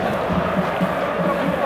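Sparta football fans in a packed stand, a dense roar of massed voices cheering and chanting, close and loud with a steady rhythmic pulse.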